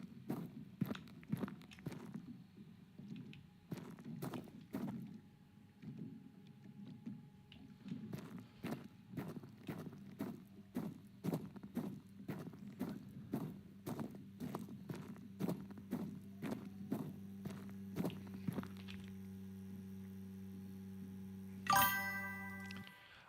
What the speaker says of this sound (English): I think the footsteps are a good volume